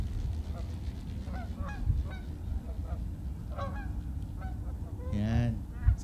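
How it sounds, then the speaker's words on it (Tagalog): A flock of geese honks overhead as they fly and form a V, with repeated nasal calls scattered across the clip, one louder burst near the end, all over a steady rumble of outdoor background noise. "why do geese honk as they fly?"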